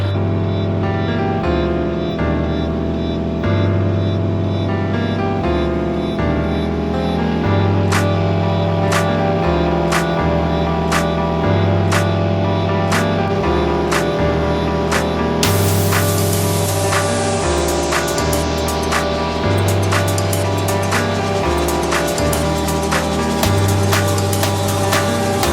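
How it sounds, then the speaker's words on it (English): Free Mercury outboard motor running steadily while being adjusted, a loud continuous engine drone with a rhythmic pulsing pattern and sharp intermittent clicks, no talking. "But so far the motor sounds pretty good."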